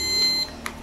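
An i3 Pro toy drone powers on with short electronic beeps, a couple of thin tones followed by a brief brighter chirp, close and alone.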